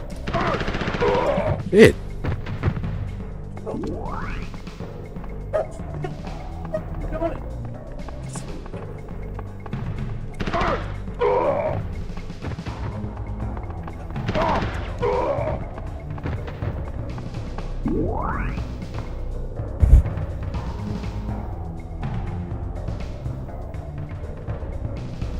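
Gunfire from the video game Mortal Kombat: Special Forces pops in sporadic bursts over game music and effects, with a player's voice swearing once near the start.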